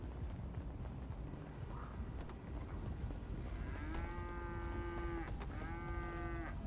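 Cattle in the video game GTA 5 give two long, deep moos one after another over a steady rumble of background noise, fairly close and loud.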